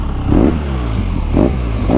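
A BMW R NineT Scrambler's boxer engine runs close by in a loping, low idle, with two throttle blips swelling and falling back into an uneven, pulsing rumble.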